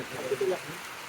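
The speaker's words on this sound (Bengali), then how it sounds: "এই যে দেখুন কি পরিমাণে বৃষ্টি হচ্ছে" Heavy rain falling in the hills at dusk, a brief wash of steady broadband hiss with a faint voice over it.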